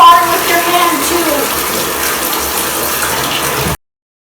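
A faucet pours a constant stream of water into a bucket for a home aquarium water change, close and steady, cutting off abruptly near the end into silence.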